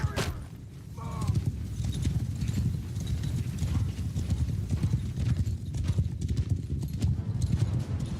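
Horses gallop in a Mount & Blade Warsails battle, a dense steady clip-clop of many hooves close by, with a brief whinny near the start and faint battlefield noise underneath.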